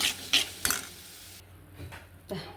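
A spoon scrapes and clinks a few times in a pan of mustard seeds tempered for Palakkad-style mango mappas. The strokes are short and irregular, with quiet pauses between them.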